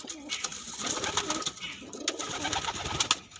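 Pigeons at a pigeon farm, including pink-eyed Jak and Madras racing birds, coo steadily and close, with overlapping throaty calls and soft flutters filling the morning air.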